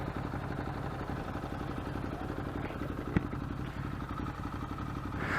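A Ducati Monster 821 motorcycle engine runs steadily and close by during a friendly drag race, a dense low rumble with a mechanical clatter and one sharp knock partway through, building slightly toward the end.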